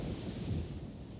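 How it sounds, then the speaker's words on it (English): Heavy storm wind roars at sea during rough sailing, a continuous low rumbling buffet that sounds partly like wind hitting the microphone, with the surge of waves blended into the steady noise. "you can't believe the power of these waves and the power of this wind"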